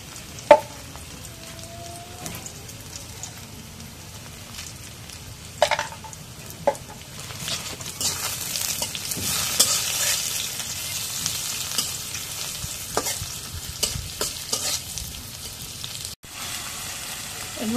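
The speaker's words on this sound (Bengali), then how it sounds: "তেলানির মধ্যে তেজপাতা দিই," Bay leaf and cumin seeds sizzle and fry in hot oil in a pan while cooking a pumpkin and fish curry. A continuous hissing sizzle swells midway, with a few sharp clinks of utensils against the pan.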